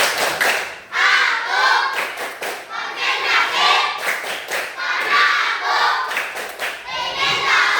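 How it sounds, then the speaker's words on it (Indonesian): Schoolchildren in a classroom perform a rhythmic concentration clapping routine together, sharp bursts of clapping in patterned groups mixed with their chanting voices, close and lively. "kita mau buat dulu tepuk konsentrasi"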